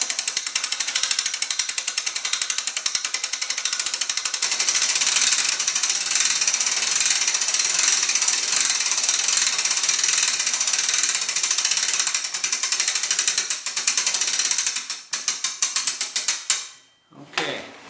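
A ratchet clicks rapidly and continuously as webbing is wound onto its drum while an antenna mast is installed, loud and close. The ratcheting holds for about fifteen seconds, then slows and stops with a few final clicks.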